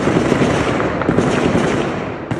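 Gepard anti-aircraft gun fire and explosions over Odessa during a drone attack, a dense continuous barrage of rapid bursts and blasts, loud and sustained with no pauses.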